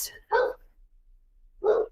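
A dog barks twice near the microphone, two short sharp barks about a second apart, with a brief noise at the start.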